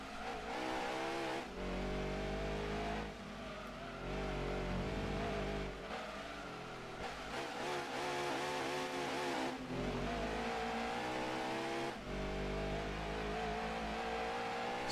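A muscle car accelerates hard through a canyon race in Gran Turismo 2, its engine revving loud and continuous, climbing and dropping through repeated gear shifts roughly every couple of seconds, with no talking over it.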